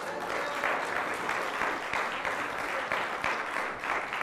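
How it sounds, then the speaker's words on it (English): Steady, dense clapping from a church congregation honoring Jesus Christ, sustained and even throughout with no speech over it. "Give Jesus Christ a hand of applause."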